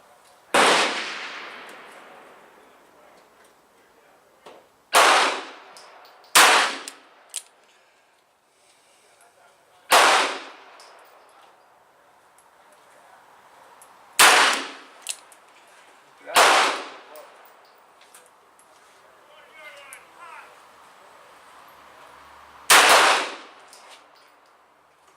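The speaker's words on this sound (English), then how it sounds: "Well, guys, that was 5 shots." A .38 Special revolver fires 200-grain loads over HS6 powder at an outdoor range, giving seven sharp, loud, close reports at uneven intervals with quiet stretches between them.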